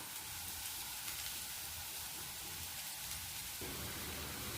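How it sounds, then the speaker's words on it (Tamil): Spinach and sautéed onions frying in a pan, a steady soft sizzle and crackle that runs evenly throughout with no talk over it. "வெங்காயம் நல்லா வதங்கிடுச்சுங்க. கீரை போட்டுக்கலாம்."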